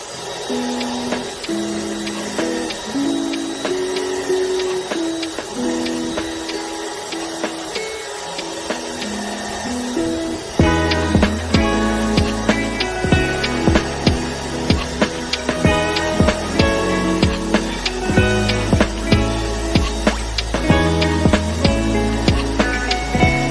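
Drill boring holes with Forstner bits, a whirring motor with rattling, scraping cutting noise that grows louder and busier partway through, close up and without speech.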